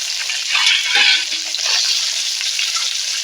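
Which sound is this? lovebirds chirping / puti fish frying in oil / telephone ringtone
puti fish frying in oil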